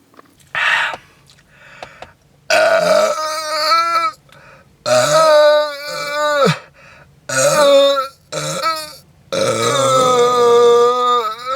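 Long, loud, drawn-out burps come one after another after a can of drink is chugged, several throaty croaking belches with short gaps between them, close to the mic and with no talking.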